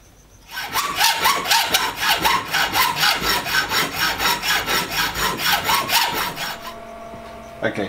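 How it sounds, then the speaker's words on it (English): Wet and dry abrasive paper rubbed by hand over the corners of a small workshop-made part still attached to its main piece of stock, a close, steady run of rhythmic back-and-forth scrubbing strokes that stops near the end. "get some wet and dry and break those corners on the back while it's attached to the main bit of material"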